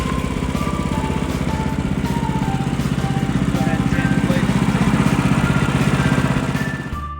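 A portable sawmill blade slices a 1 3/4 slab from a log, its small engine chugging in a fast even rhythm under the steady grind of the cut, running close and loud throughout before easing off at the end.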